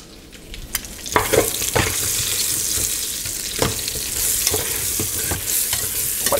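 Onions sizzle loudly in a pot alongside browned raccoon meat, with repeated scraping and knocking strokes as they are stirred.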